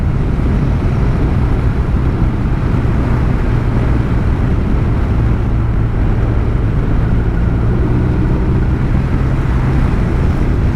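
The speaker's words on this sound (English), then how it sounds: "The grunt and the roar is beautiful, and it is typical BMW boxer" The boxer twin engine of a 2022 BMW R1250 RT motorcycle gives a loud, steady, unbroken roar and rumble that holds at the same level throughout, with no voices.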